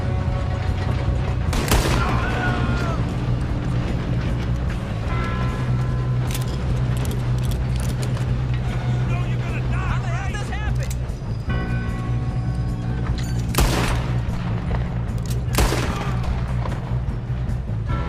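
Gunfire in a shootout in Red Dead Redemption 2, repeated sharp shots and bangs over a dense rumbling game soundscape with music, while characters shout and talk throughout.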